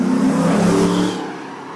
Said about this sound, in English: You can tell how big his engine is.